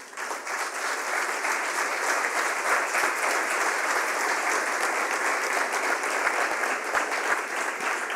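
An audience at an award ceremony breaks into sustained applause, dense steady clapping from a large crowd that holds evenly throughout.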